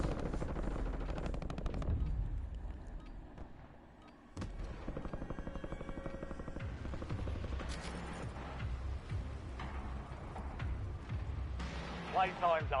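Machine gun bursts and other gunfire in a Warzone video game match, repeated rattling fire mixed with booms and helicopter noise over much of the stretch, with voices talking throughout.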